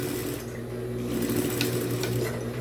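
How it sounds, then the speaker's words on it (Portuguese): A sewing machine runs a side seam on a small wallet, a fast, even mechanical whirring of stitches heard up close and alone, with a couple of faint clicks near the end. "Vou aproveitar e já vou subir aqui com a costura na lateral. Uma costurinha de segurança."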